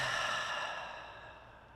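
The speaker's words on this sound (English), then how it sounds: "let us exhale completely" A single slow, soft exhale during a gentle yoga practice, a breathy sigh that fades steadily over about two seconds, close and quiet.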